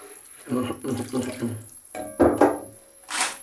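Plain water is poured into a cooking pot for a country chicken ginseng soup, giving short splashy gushes close by, with a person talking over part of the pouring.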